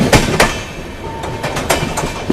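Marathwada Sampark Kranti Express, train 12753, rolling through Jalgaon junction, with loud rhythmic clickety-clack from wheels crossing rail joints, several sharp bursts over a steady rumble of moving carriages.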